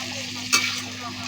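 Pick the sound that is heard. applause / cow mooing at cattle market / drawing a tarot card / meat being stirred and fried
meat being stirred and fried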